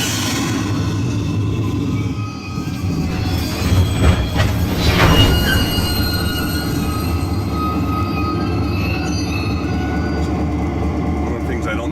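A DCC model train makes an emergency stop, rumbling and rattling, with a squeal of hard braking and the clattering cars running into the back of the locomotive, under a steady mechanical hum.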